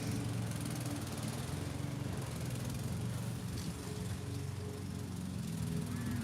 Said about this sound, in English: The lawnmower man up there cutting the grass.